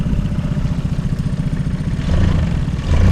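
A small boat outboard motor runs steadily with a low, chugging idle, picking up slightly in the last second or so.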